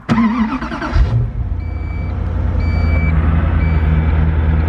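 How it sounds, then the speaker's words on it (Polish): A Koenigsegg Agera sports car sounds an evenly spaced warning beep because its tailgate is open. The beeps repeat about once a second over the loud, steady rumble of the idling engine. "Teraz nam pika, ponieważ tylna klapa jest otwarta."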